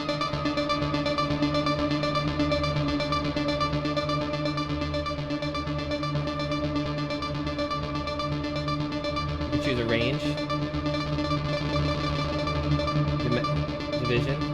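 A Korg Nu:Tekt NTS-1 synthesizer arpeggiator plays a sustained, effects-laden pattern with layered chorus-like and distorted tones, loud and continuous, with a brief sweeping flourish near the middle.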